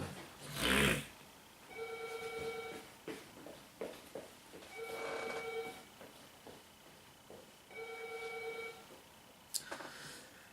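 A telephone rings three times at even intervals, each a short burst of buzzy electronic trills. The rings are moderately faint and sit under room noise and scattered knocks.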